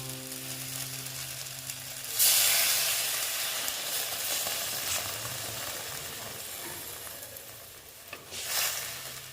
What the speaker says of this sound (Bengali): এখন আমি এখানে জল অ্যাড করে দেব